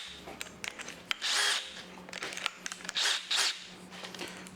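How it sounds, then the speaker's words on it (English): A power drill bores into material in a fabrication shop during tuning work, whining in several short, loud bursts separated by brief pauses and small clicks. "We're gonna drill that."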